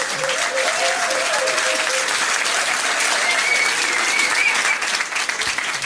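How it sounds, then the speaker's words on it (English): Steady audience applause fills a pub trivia quiz night, a dense, continuous clatter of many hands clapping for several seconds with no let-up, loud and close. "give him a round of applause for trying though"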